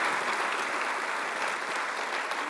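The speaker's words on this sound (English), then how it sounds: "So a round of applause." Steady applause from a conference audience thanking a panel at a London television industry event, a dense wash of clapping heard alone at a moderate, even level for a couple of seconds.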